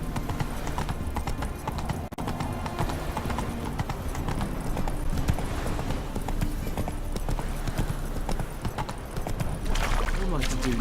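Hooves of Roach, a horse in the video game The Witcher 3: Wild Hunt, clip-clopping in a steady, continuous rhythm over busy game ambience, with a brief whinny and occasional talk mixed in.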